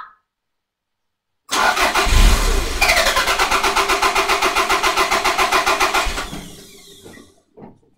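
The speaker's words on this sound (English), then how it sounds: "we'll go and do a continuous crank now and see what we get" A Toyota MR2 with a start and stall fault cranks continuously after a brief silence, the starter chugging in a steady rapid rhythm for several seconds, ending in a brief attempt to fire before it falls quiet, heard up close.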